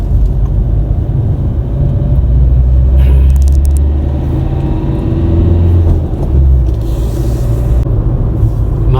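A car driving along a road in Italy, heard from inside the cabin: a steady, loud low engine and road rumble runs throughout, with no talking.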